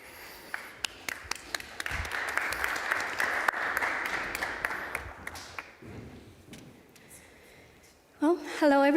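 A conference audience applauds steadily for several seconds, the clapping thinning out and fading before a brief burst of noise at the end.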